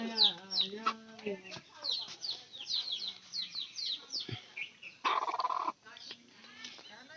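Chickens clucking and squawking nearby in a repeated, uneven series of calls, with a person talking at moments among them.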